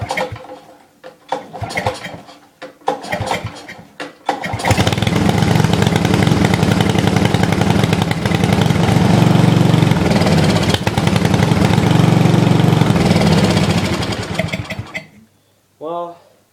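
Briggs and Stratton small engine partway through a head gasket repair, run with the choke on: a few clanks and tugs, then it catches and roars loudly for about ten seconds before dying, with a voice speaking briefly at the end.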